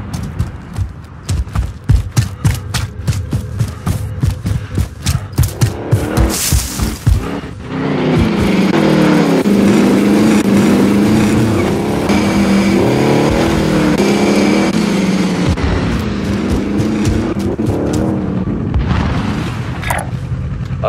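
Vehicle in the Call of Duty: Warzone video game, with rhythmic thumps and impacts at first, then an engine roaring and revving loudly and continuously as it drives.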